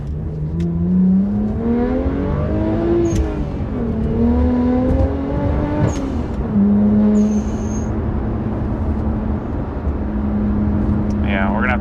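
A BMW 1M accelerates hard through first and second gear in a rolling pull. The engine note rises in loud sweeping revs, with a brief dip at each gear change, and carries on steadily after the shift.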